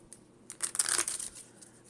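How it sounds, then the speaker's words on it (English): A Pokemon TCG card deck is shuffled in one brief riffle, giving a quick papery crinkle and flutter that rises and fades within about a second and is otherwise quiet. "we'll just shuffle twice, and then cut a bunch of times for each of these decks"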